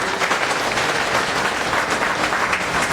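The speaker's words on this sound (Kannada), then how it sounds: "ಅವರಿಗೆ ಜೋರಾಗಿ ಚಪ್ಪಾಳೆಯನ್ನ ತರಬೇಕು." Audience applause at a community gathering, steady dense clapping from a crowd that holds evenly for the whole stretch with no talk.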